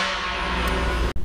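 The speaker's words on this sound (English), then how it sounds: "Air horns" A BART train air horn sounds one loud, steady, sustained blast with a rich harmonic drone, then cuts off abruptly near the end.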